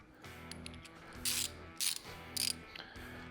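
A 5/32 Allen wrench tightens a bolt on a Prinsu Pro panel on a 2007-2014 Toyota FJ Cruiser, giving short bursts of clicking and ratcheting in three or four separate spurts, close and quiet, with no talk.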